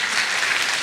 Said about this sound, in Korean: 이런 때는 방송실에 박수 한번 쳐주시면 돼요.